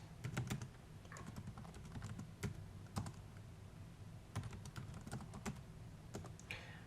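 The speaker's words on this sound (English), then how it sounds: "And then we're just going to type in some keywords." Keywords typed on a computer keyboard in quick, irregular bursts of sharp clicks, close and fairly quiet, with short pauses between runs of keystrokes and no talking.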